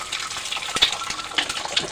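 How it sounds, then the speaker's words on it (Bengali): An egg is cracked into hot oil in a kadai with black cumin and bay leaf, a brief burst of crackling, spitting sizzle with sharp pops close by. "এখন এই ডিমটা দিয়ে দেবো ভেঙে"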